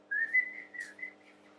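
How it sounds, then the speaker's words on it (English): A person whistles a short melodic phrase of several gliding notes, close and clear, with a brief breathy puff in the middle and no talk. "I can whistle now, but I cannot whistle right now because I'm smiling"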